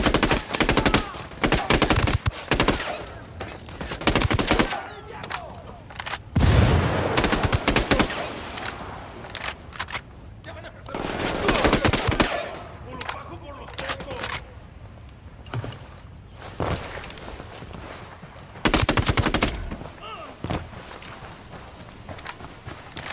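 Automatic gunfire in Tom Clancy's Ghost Recon: Wildlands comes in loud repeated bursts separated by quieter gaps, with footsteps and a few brief voices between volleys.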